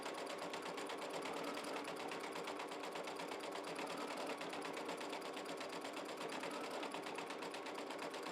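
An embroidery machine works a candle wick stitch in metallic thread with a wing needle, giving off a continuous, even, fast mechanical chatter at low level.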